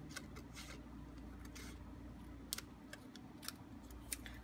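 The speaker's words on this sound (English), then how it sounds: "So I'm going to cut right on the line here." Scissors snip through gingham vellum paper along a marked line, a steady run of soft, close cuts with a few sharper clicks, no voices.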